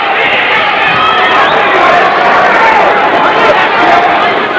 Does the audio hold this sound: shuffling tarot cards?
no